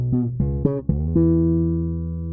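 A Precision bass guitar fitted with a 47 nanofarad tone capacitor plays a few quick plucked notes, then lets one low note ring out and slowly fade, close and clear with no talking.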